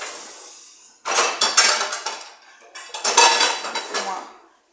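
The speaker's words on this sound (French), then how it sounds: "Laissez-moi classer ma vaisselle" Crockery and cutlery clatter in two loud bursts as dishes are sorted and put away, with clinking plates and utensils knocking together close by, separated by a brief pause and no talk.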